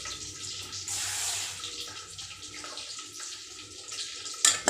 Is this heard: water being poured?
yes